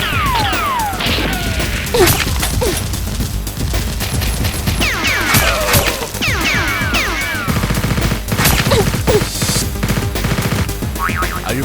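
Rapid bursts of toy foam-dart blaster fire in a mock battle inside a deserted house, sharp snapping shots and clatters repeating densely and loudly throughout with little pause.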